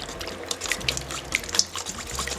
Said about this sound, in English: Whisk these ingredients until that peanut butter is nice and smooth.